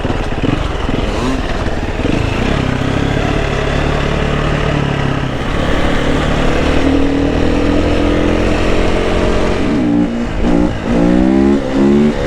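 A KTM 350 EXC enduro motorcycle ridden through sand near Pattaya, Thailand, its engine droning loud and steady up close, with throttle surges and revving toward the end.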